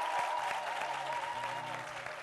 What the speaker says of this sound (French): Nous allons la recevoir ici avec des applaudissements bien nourris.